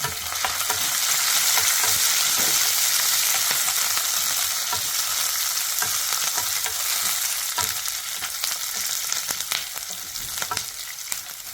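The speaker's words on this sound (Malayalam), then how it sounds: "അതിലേക്ക് കുറച്ച് കറിവേപ്പിലയും കൂടെ ഇട്ടു" Curry leaves crackle and sizzle in hot oil as a tempering for Sadya-style kaalan, a loud, dense, continuous frying hiss with small pops and stirring scrapes throughout.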